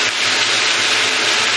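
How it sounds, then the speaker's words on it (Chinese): Minced pork frying in a home wok for a salted fish and bean sprout dish gives off a loud, steady, dense sizzle that stays constant throughout with no talking. "我哋就落呢個係肉碎落去煎啦"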